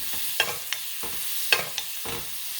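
A scallop searing in a hot pan while being basted, a soft continuous sizzle broken by four or five sharp spoon scrapes and splashes of fat at a regular pace, close and alone.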